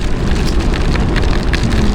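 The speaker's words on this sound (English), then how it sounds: "Well, we're getting rained on, and that's unfortunate." Rain falling during a motorcycle ride on pavement, a dense steady hiss of drops close by, loud and continuous with scattered louder splats and no talk.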